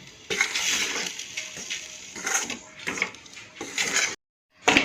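Dry flour stirred in a hot vessel over a low gas flame for padwali puri, giving repeated scraping and light clinking of the spoon against the pan at close range. The strokes come in uneven bursts, then a short silence.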